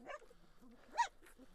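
Kangal dogs barking, a few short faint barks and yelps at a distance in a quiet outdoor setting.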